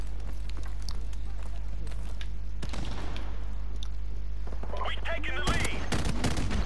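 Rapid bursts of light machine gun fire in the shooter game Call of Duty: Modern Warfare crackle over a low steady hum, with scattered shots and a louder volley near the end.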